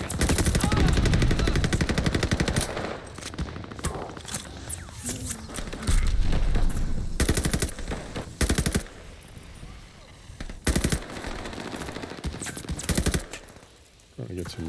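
Rapid bursts of submachine gun fire from an M1928 SMG in the shooter game Call of Duty Vanguard during an objective-capture match, loud and repeated with short pauses, mixed with game voice callouts and a player talking.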